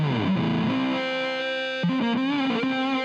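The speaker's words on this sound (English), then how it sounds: "this is the left guitar" Distorted electric guitar track, the left-side part of an alternative indie rock mix run through Logic's Space Designer impulse response, short sustained bent notes and a quick slide heard alone and moderately loud.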